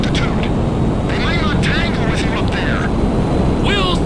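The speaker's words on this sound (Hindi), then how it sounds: "दो मिलिट्री के जेट आ गए" Military jets fly in the video game GTA 5, a continuous loud roar of jet engines running throughout while someone talks excitedly over it.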